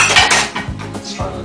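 Dishes and cutlery clatter loudly in a busy home kitchen during soup cooking, with a few sharp clinks and knocks as a cup is pulled out from among them.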